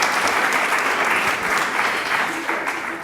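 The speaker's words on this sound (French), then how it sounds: "Merci pour vos applaudissements." Sustained audience applause fills a conference round-table opening session, loud and dense throughout and tapering slightly at the end.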